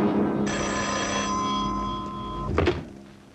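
Telephone ringing in an old 1978 Iranian feature film, a bright electronic trill that sounds for about two seconds and then stops, followed by a short clunk as the receiver is picked up.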